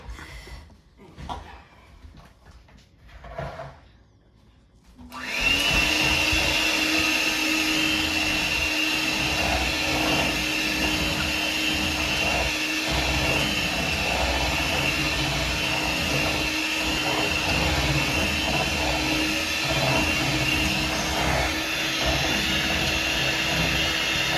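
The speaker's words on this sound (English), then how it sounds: "I'm going to mix that, and then we will season to taste." An electric mixer whirs steadily in a bowl of beaten eggs, a loud continuous motor drone starting abruptly after a few seconds of quiet kitchen clatter and running without pause.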